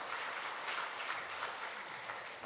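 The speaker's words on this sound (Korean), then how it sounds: "우리 박수 한번 부탁드리겠습니다" Congregation applauding during a Sunday morning church service after a new-member certificate is presented, soft, even clapping from a fairly distant crowd, steady throughout with no talk.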